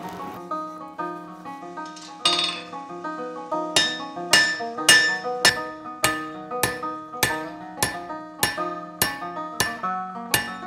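A blacksmith hammers hot metal into a ram's head poker, about a dozen sharp ringing strikes in a steady rhythm, close and clear, with no talk.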